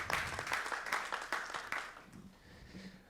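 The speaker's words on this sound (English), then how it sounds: "Big round of applause" Applause from a conference audience after a presentation on a 3D customer experience platform, a burst of clapping that is fairly loud at first and thins out over a few seconds.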